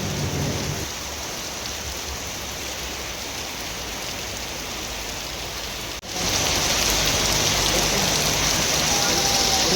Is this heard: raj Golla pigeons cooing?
no